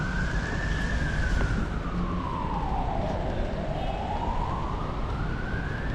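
An ambulance siren wails in a slow rising and falling sweep, loud and fairly near, over constant street traffic noise on a street near a hospital in Macau.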